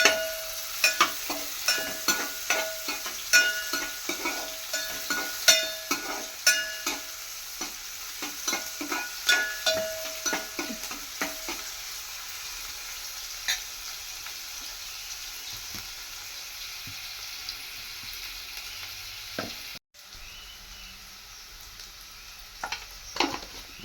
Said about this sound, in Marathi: लसूण झाल्यानंतर कांदा आणि हे सर्व आपण तेलामध्ये चांगलं असं परतून घेणार आहोत